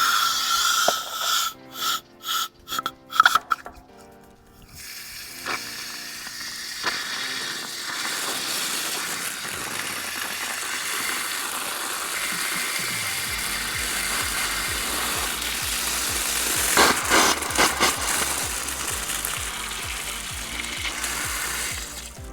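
A pop-up lawn sprinkler irrigation system switched on: after some clicking and knocking at the start, a steady broad hiss of water spraying builds and runs continuously, with a low pulsing rumble underneath from about the midpoint.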